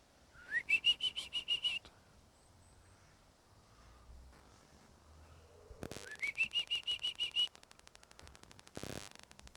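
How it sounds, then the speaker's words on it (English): An Australian bird indoors at a church in Tollesbury, Essex, calls out in two loud, close bursts of rising, whistle-like notes that quickly repeat in a warbling pulse, with quieter shuffling between and a brief sharp knock near the end. "Look at this beautiful bird all the way from Australia."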